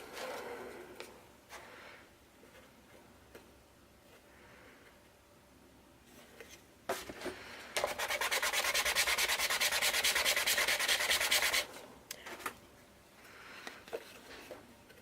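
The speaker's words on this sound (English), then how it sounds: "this, if anybody's interested, is 400 grit sandpaper from the hardware store" Hand sanding with 400 grit sandpaper from a hardware store, soft intermittent rubbing strokes at first, then a louder steady burst of close scratchy sanding lasting several seconds before easing off.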